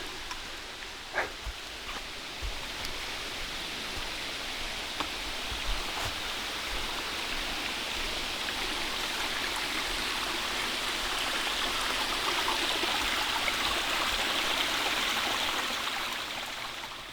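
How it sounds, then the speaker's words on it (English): Moshannon Creek in Pennsylvania's Moshannon State Forest flows steadily after rain, its broad rushing water noise constant and fairly loud throughout, with no voices. "there it is, the Moshannon Creek"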